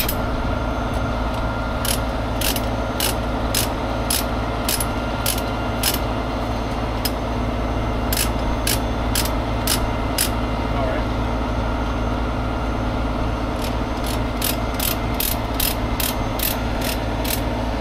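A ratchet tightens the landing gear of a water filtration trailer: rapid, evenly spaced metallic clicks come in two bursts over a steady, loud mechanical hum.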